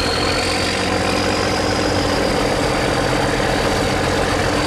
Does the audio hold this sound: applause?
no